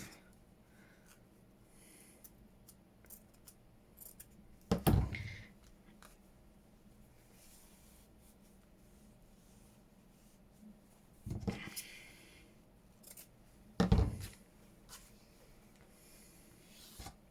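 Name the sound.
cutting paper for a junk journal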